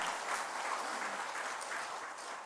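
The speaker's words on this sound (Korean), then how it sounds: "우리 하나님께 영광의 박수 올려드리겠습니다" A church congregation claps together after a Sunday prayer, a dense, even patter of many hands heard from a distance, soft and sustained throughout.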